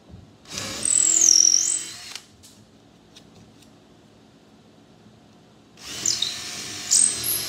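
A power drill bores a wider hole with a larger bit through a boat's coaming bracket, running in two loud bursts of about a second and a half each, separated by a quiet pause.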